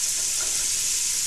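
Vegetables, onion among them, sizzling loudly in a very hot pan for corn chowder, a dense continuous hiss close up, no voices.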